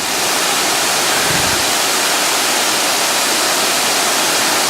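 Crabtree Falls pours heavily down its final plunge of about 80 feet, a loud, steady broadband roar of rushing water that stays constant from start to finish with no voices.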